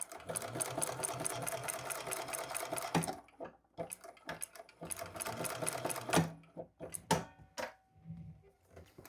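A domestic sewing machine stitching a custom white faux-croc item, running in two sustained bursts of fast, steady needle clatter with short pauses and clicks between them, fairly close and alone without talk.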